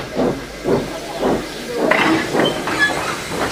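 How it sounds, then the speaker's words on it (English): A cartoon narrow-gauge steam engine lets off steam in repeated hissing bursts, loud and close, with faint rail clatter in the background. "He let off steam happily while he waited for the guard to blow his whistle"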